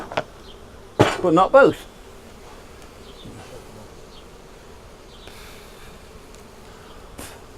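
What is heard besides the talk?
honeybees buzzing during hive inspection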